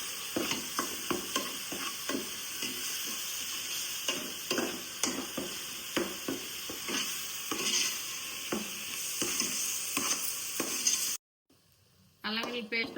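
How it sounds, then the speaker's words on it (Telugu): Ginger garlic paste frying in a pan for a goat curry, a steady close sizzle broken by regular scraping stir strokes, cutting out briefly near the end before resuming. "అల్లం వెల్లుల్లి పేస్ట్ బాగా వేగింది."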